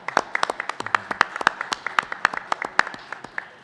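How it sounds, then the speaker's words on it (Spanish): Applause at a panel discussion on tax incentives for restoring historic buildings: a small group claps with distinct, uneven hand claps, fairly close and spaced, rather than a dense roar. "Un aplauso hasta allá."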